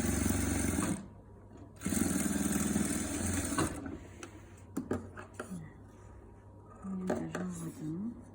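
A sewing machine joins patchwork pieces in two short, close bursts of fast mechanical whirring, followed by clicks and handling sounds while someone talks.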